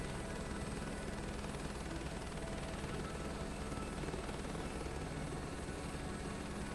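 A helicopter at a helipad in Microsoft Flight Simulator 2024 makes a constant loud rotor and turbine drone throughout, dense and unchanging with no pauses.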